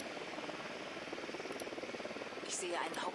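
Drone buzzing overhead in the video game Ghost Recon Wildlands, a steady pulsing rotor whir at moderate level while a voice speaks over it.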